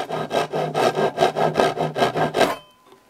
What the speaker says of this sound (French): utiliser une scie japonaise comme celle-ci